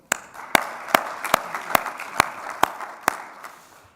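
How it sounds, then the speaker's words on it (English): Audience applause at an international conference livestream, sparse and fairly quiet, with distinct single claps landing at a slow, regular pace before fading out. "one final round of applause to all of the event team and everyone else who's been involved"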